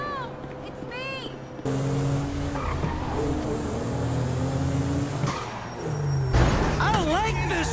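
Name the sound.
car driving and skidding in GTA 6 concept video game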